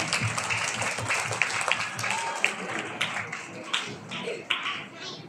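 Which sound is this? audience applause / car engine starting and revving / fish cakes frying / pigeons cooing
audience applause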